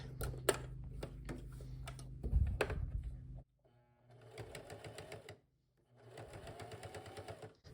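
Sewing machine stitching shut the open edge of a cotton jelly roll rug, preceded by clattering handling noises, then two steady runs of close mechanical whirring with a brief pause between.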